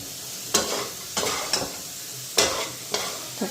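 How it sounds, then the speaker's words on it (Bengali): Puri frying in a pan on a home kitchen stove, heard as a quiet, even sizzle broken by five or six sharp, bright bursts of spattering or stirring spread across a few seconds. "এখন এই চুলাটার মধ্যে পুরিটা ভেজে নেব"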